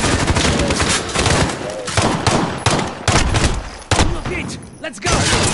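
Call of Duty gunfire rattles in heavy, continuous automatic bursts with booming shots, loud and close throughout, as players talk over the shooting.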